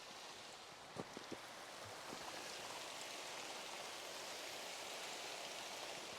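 Water sprayed against a stove tent during a leak test, a steady, fairly faint hiss of drops pattering on the fabric, with a few light taps near the start.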